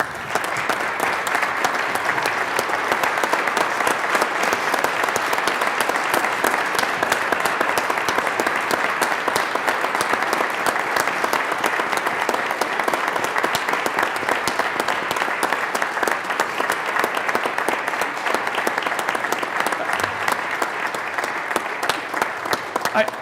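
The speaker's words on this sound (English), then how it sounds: "I promise I'm not milking the applause." Sustained applause from an audience following a State of the Judiciary address in the Colorado House, dense steady clapping for over twenty seconds with no pause.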